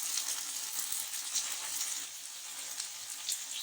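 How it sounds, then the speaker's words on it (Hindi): Okra (bhindi) frying in hot oil, a steady close sizzle with faint crackles running the whole time and no one talking. "भिंडियों को तब तक आपने फ्राई करना है जब तक इनमें से लेस खत्म हो जाए"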